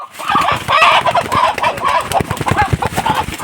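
A brooding hen sitting on eggs clucks repeatedly in low, throaty bursts, close by and fairly loud, with a soft steady rhythm.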